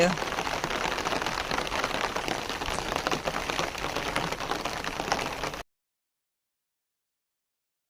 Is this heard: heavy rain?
yes